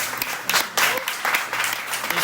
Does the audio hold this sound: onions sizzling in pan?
no